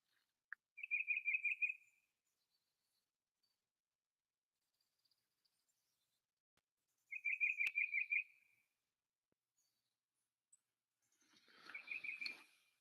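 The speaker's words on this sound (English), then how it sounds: "the only thing that's important is what that bird is saying" A bird singing outdoors in a quiet remote spot, three separate bursts of rapid trilling notes spaced several seconds apart, clear and fairly close against near silence.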